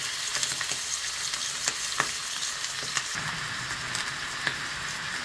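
Chicken sautéing in a pan for a chicken pizza, a steady dense sizzle and crackle that runs close and loud throughout with no one talking.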